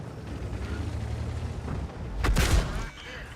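A tank cannon shell fires in World of Tanks on the Cliff map: one loud, close, booming blast with a sharp crack, rising out of a steady engine rumble and fading quickly.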